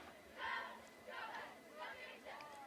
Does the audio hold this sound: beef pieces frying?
no